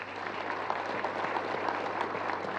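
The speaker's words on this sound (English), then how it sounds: "A round of applause." An awards ceremony audience applauds, dense, steady clapping from a large crowd filling the room at moderate volume, with no voices over it.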